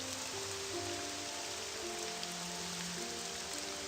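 Steady rain falls in the Morrowind video game world, a continuous soft hiss of drops on surfaces at a constant level, with faint tonal background music underneath and no talk.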